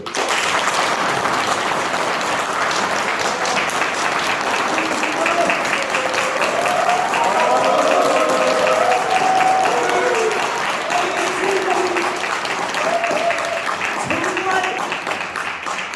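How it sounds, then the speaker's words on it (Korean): Applause at a Korean book concert for an author, a steady wash of clapping from the audience that runs the whole time, with a voice and faint music sounding beneath it. "박수 한번 쳐주세요"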